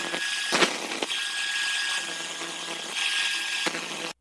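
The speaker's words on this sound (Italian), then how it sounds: "E come prima facciamo partire il trapano e andiamo a rifare tutti quanti i denti." A power drill whines continuously with a steady tone while sharpening circular saw blade teeth, interrupted by a few sharp grinding clicks of metal contact, close up.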